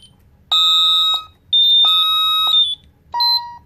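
Fire alarm tone from a Honeywell Vista 10SE alarm keypad, likely a 6160 keypad: three loud, steady high-pitched electronic beeps, each about half a second to a second long with short gaps, sounding alone and close.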